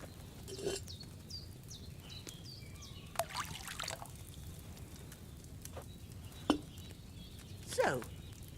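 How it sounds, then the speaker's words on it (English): Wine trickles and pours into a cauldron in Kingdom Come: Deliverance 2, a soft steady stream with faint birdsong and occasional sharper knocks and clinks over a quiet outdoor backdrop. "So, what did you pour in there? Wine, of course."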